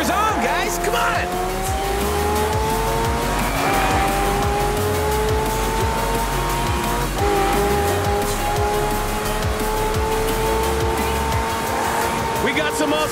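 Race cars driving in Forza Horizon 4, with engines revving through rising gear changes and tires squealing, loud and close, under an excited announcer talking over the action.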